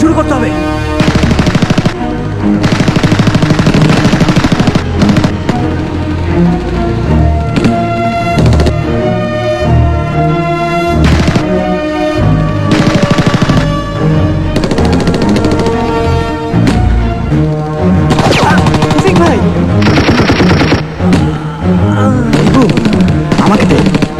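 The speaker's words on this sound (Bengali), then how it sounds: "গুলি করছে, এখনই শুরু করতে হবে।" Loud, sustained machine-gun and rifle fire in a wartime battle scene rattles continuously for over twenty seconds, in rapid overlapping bursts layered with a dramatic musical score.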